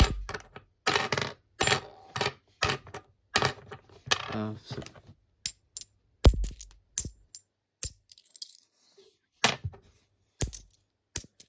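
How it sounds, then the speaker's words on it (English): A tin-sounding 50p coin is dropped again and again onto a hard surface, each drop a sharp metallic clink with a brief rattle, spaced irregularly. "I'm pretty sure that's a tin sounding 50p"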